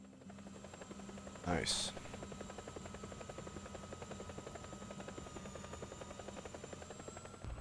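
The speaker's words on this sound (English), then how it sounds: "Yes, it's an attack heli." An attack helicopter hovers nearby in a Garry's Mod Star Wars roleplay game, its rotor chopping in a steady, fast pulse throughout, with a short spoken word briefly over it.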